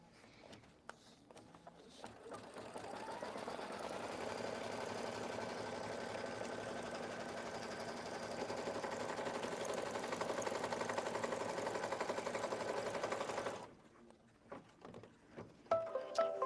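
An embroidery machine stitches a crosshair for placing leather, a steady mechanical whirring hum running for about ten seconds before stopping abruptly, with brief handling noises around it.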